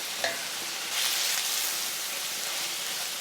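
Minced beef sizzles in a pan with tomato paste, a steady close crackling hiss with brief stirring scrapes, and no talking.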